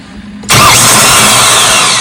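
Mahindra 1635 tractor starter with the pinion gear not engaging: a quiet moment, then a sudden loud, steady whirring starter noise that holds for about a second and a half, close and without voices.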